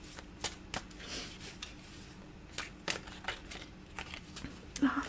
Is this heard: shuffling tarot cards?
yes